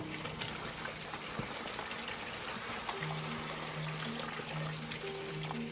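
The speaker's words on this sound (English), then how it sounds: "I'm going to add some of my boiling water." Boiling water poured into a pot of meat stock for jollof rice makes a steady, continuous splashing rush with a faint background hum, and no voices.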